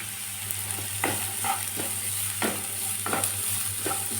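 Carrots and beans are stirred and tossed in a pan for a mixed vegetable rava idli, giving a steady close sizzle broken by several scraping stirs, with a constant hum behind and no speech.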